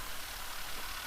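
A light aircraft engine idles at 1200 rpm with the parking brake on before a training flight, a steady close drone with a faint uneven throb and no pauses.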